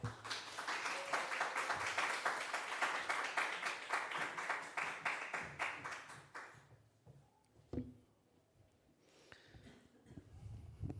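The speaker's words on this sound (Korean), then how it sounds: "목사를 환영하면서 박수로 우리가 맞이하겠습니다" A church congregation at a Friday prayer meeting claps to welcome a visiting pastor, with dense, rhythmic applause for about six seconds that then breaks off into a quieter room with scattered faint sounds.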